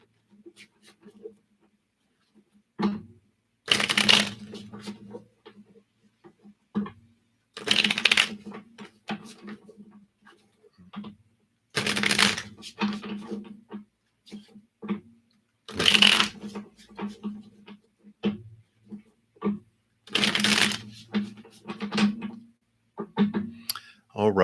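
Tarot cards from the Revelations Tarot deck are shuffled in several distinct bursts of riffling and flapping spread across the stretch, close and crisp, with quieter handling sounds in between.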